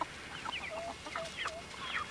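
Clucks and short calls from a young October Bantam cockerel, a breeder bird, repeat in quick irregular bursts over steady farmyard background noise, fairly close and moderately loud, with no talking.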